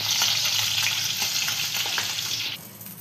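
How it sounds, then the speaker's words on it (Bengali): Tengra fish fry in oil, a loud continuous hiss and crackle close by that drops off abruptly near the end, with faint stirring taps underneath. "মাছগুলো ভালো করে ভেজে নিয়েছি।"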